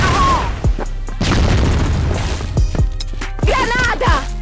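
Grenade blasts in a video game: several deep, heavy booms in quick succession, close and loud, with shouting voices breaking in between.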